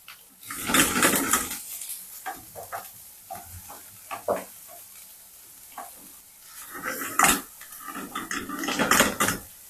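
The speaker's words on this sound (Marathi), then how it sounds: "आता ह्याच्यामध्ये मी कांदा घालणार आहे कांदाही थोडा परतून घेणार आहे" Chopped onion, green chilies and capsicum sautéing over high heat in a pan, with a steady sizzle and bursts of louder frying as a spoon stirs and scrapes, close up with no talk.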